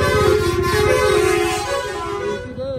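A motorcycle horn blares in one long, steady tone for over two seconds over the low throb of the bike's engine on a ride in Mustang, then cuts off, leaving the engine alone.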